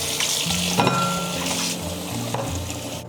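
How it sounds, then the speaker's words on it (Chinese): Blanched chicken feet rinsed under water in a kitchen sink, a steady splashing wash with stirring and sloshing throughout, close and moderately loud, no talking. "焯完水以后，我们再给它淘洗一遍"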